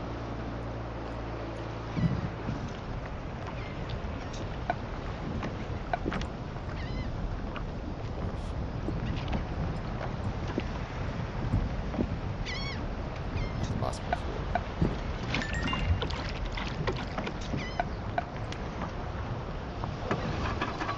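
Starting boat in the Drug Dealer Simulator 2 video game, a steady low engine and water wash running throughout, with small clicks and splashes under someone talking.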